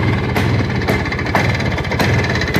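A battery-powered motorcycle runs close by, giving a steady rough mechanical hum and rattle with periodic ticking bursts, fairly loud and with no talking.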